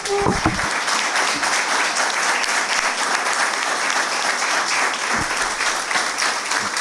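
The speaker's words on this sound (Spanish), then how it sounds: "brindarte un fuerte aplauso de parte de todos nosotros" Warm audience applause at a lecture on democracy and the judiciary, a steady dense wash of clapping that holds evenly throughout.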